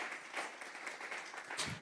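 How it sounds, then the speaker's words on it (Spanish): Church congregation applauding together, a steady mass of clapping that stays even and fairly quiet throughout with no pauses. "Vamos a regalarle ofrenda de palmas al Dios de la gloria."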